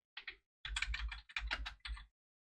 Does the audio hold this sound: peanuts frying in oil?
no